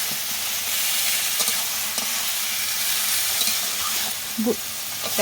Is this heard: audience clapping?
no